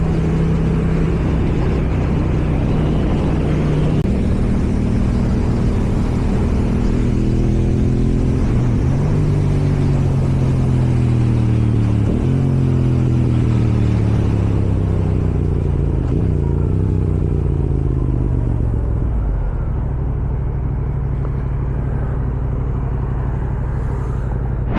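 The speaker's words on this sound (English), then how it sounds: "we've still got some little bit of exhaust burble, which is good" A Yamaha R7 motorcycle, fitted with a new intake and an ECU tune, rides loud and close, its engine rising and falling through the gears with a rumbling exhaust burble and clatter, and no voices.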